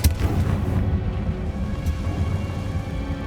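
A Confringo blast spell in Hogwarts Legacy erupts as a loud, booming explosion right at the start, then settles into a sustained, rumbling low roar that carries through to the end.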